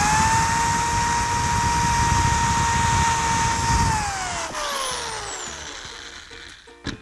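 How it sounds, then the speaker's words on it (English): Up close, a power drill bores a second hole through wood for a DIY desk caddy, whining steadily for about four seconds before the motor winds down and its pitch drops, ending with a small clunk. "Then I'll drill my second hole on the opposite side."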